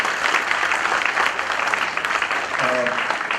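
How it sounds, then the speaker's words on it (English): An audience at a conference applauds after a presentation, dense steady clapping throughout, with a voice briefly heard near the end. "Let's give them a very, very big round of applause, please."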